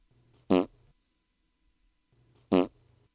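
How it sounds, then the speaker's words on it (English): A fart sound-effect button is pressed twice, about two seconds apart, each time giving a short, loud, buzzy raspberry noise over a faint background hum. "I need like 5 fart buttons so I can just."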